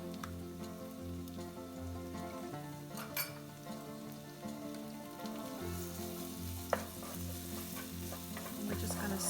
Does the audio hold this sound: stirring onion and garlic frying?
yes